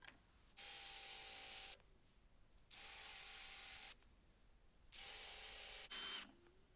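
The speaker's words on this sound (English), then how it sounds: "And then I went in with the countersink bit." A power drill with a countersink bit bores into wood in three bursts of about a second each. The bursts are loud and whining, separated by short quiet pauses.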